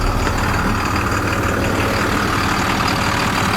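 A 2009 International 24 ft box truck with a DT466 diesel engine idles nearby, a steady loud low rumble with an even mechanical clatter that holds constant throughout, no voices.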